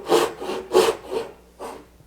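A hand saw cutting dovetails in wood for a serving tray, four rasping strokes in an even back-and-forth rhythm, close and clear with no talking.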